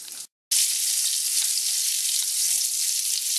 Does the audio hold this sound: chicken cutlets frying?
yes